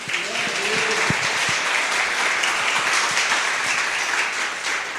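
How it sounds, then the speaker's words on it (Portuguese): A church congregation breaks into sustained applause, dense clapping filling the room steadily for the whole stretch, with a few voices briefly rising underneath near the start. "Dê a salva de palmas para Jesus"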